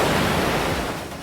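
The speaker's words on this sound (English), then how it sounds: "in this scene of the waves crashing" Ocean waves crashing on a beach, a loud continuous roar of surf with rushing wash close to the microphone.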